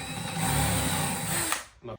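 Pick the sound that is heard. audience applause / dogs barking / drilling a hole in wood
drilling a hole in wood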